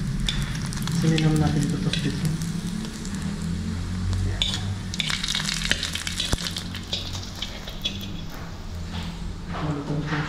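Eggs fry in a pan with a steady, dense sizzle and crackle that goes on throughout. A person speaks briefly over the cooking.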